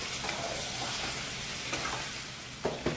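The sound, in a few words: chicken being fried and stirred in a pan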